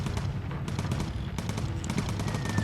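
Rapid machine-gun fire from bomber aircraft gunners in the Bomber Crew video game, sustained and dense bursts running throughout at close range with no talk.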